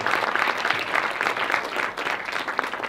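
A crowd at a Singapore women's excellence awards ceremony applauds an award recipient, with dense, continuous clapping at moderate volume and slight surges throughout.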